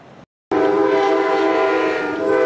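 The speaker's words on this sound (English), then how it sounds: "Here comes Amtrak, y'all. Coming through Laurel, Mississippi." An Amtrak train passing through Laurel, Mississippi, sounding its horn: a loud, sustained horn blast starts abruptly after a brief silence and holds steady over the rumble of the train.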